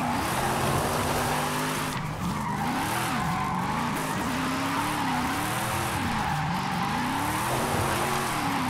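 A supercharged LS-engined car drifts in Forza Horizon 5, its tires squealing continuously with wavering pitch over a steady, loud engine roar for several seconds, with no talking.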